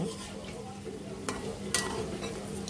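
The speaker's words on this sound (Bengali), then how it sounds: "আমরা এভাবে ভেজে নিব।" Potato rings made with flour frying in oil over a low flame, a soft steady sizzle with a couple of sharp scrapes and clinks as they are stirred and turned.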